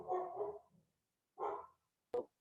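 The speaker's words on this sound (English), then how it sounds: "If I could make her stop barking" Single dog barking indoors, three bursts: a longer opening bark, then a second after a pause and a short sharp final yip, fairly close and clear with silence between.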